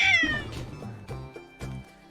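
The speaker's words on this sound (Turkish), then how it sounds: "Ya böyle bana atladı ya bir de Cem'in kedisi" A cat meows repeatedly at close range indoors, a drawn-out high cry followed by several shorter, loud meows in an uneven rhythm, with no talking.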